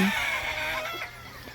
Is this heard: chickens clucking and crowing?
yes